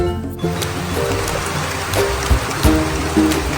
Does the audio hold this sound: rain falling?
yes